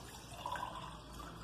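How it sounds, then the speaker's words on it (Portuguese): Water is poured from a cup into a cooking pot on the stove for polenta, a soft brief trickling splash, quiet and close. "Deixa eu colocar água aqui. Coloco 2 copos de água."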